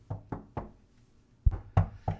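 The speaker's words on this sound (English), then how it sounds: "you know that knock on the door" A child knocks on a door in two quick groups of three raps, the second set harder and closer together, separated by a short pause.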